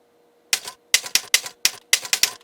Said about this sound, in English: as I type on this, it makes an artificial typing sound